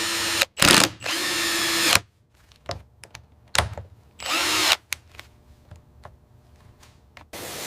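Power drill fastening powder-coated hairpin legs onto an epoxy river table: a few loud, close bursts of whirring separated by pauses, with lighter clicks and handling knocks between them and no talking.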